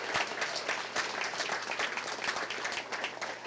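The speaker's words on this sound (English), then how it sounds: "Let's give Senator Peters and Congresswoman Tlaib another round of applause for all their hard work" A press conference crowd for the 2020 Census applauds Senator Peters and Congresswoman Tlaib, a continuous, moderately loud roar of many clapping hands with no voices over it.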